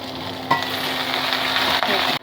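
Tomatoes and garlic sizzle in a hot pan while being prepared for a mutton curry, a steady close frying hiss with a couple of stirring knocks.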